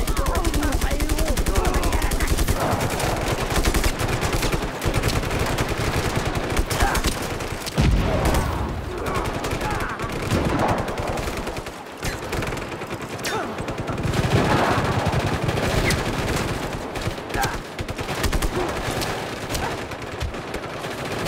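Cannon on an armored vehicle in the video game Just Cause 3 firing rapid, loud bursts, with heavy gunfire and explosions continuing almost without pause.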